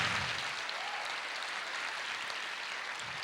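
A church congregation applauds in a dense, sustained wash of clapping that holds steady for several seconds without talk.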